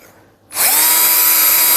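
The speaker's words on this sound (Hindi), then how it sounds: "ड्रिल मशीन से" A surgical power drill bores into bone for a humerus interlocking nail, starting abruptly after a brief quiet and then whining at a high, steady, loud pitch close by.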